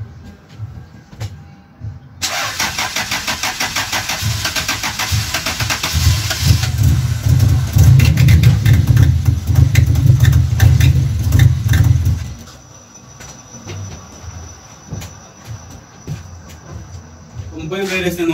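A Toyota Corolla with the 1ZZ engine cranking and catching after a quiet start, then running loudly at a rough rumble before settling to a softer steady idle, with a brief clatter near the end.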